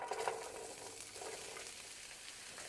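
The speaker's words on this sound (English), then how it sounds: "First goes the olive oil. Then all these beautiful veggies." Vegetables fry in olive oil in a pan for pasta primavera, giving a steady close sizzle that hisses evenly throughout with no pauses.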